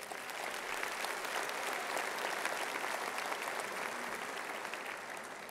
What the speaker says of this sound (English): Class of 2017, I would ask that you give them all a round of applause.